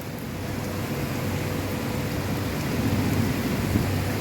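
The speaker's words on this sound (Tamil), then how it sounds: "அபுதாபியில் மழை பிச்சு ஊத்துது." Heavy rain pouring down in Abu Dhabi as heard from a balcony, a steady dense wash of falling water with low rumble underneath, continuous and with no talk.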